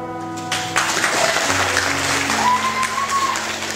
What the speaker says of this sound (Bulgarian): Овации за Дарко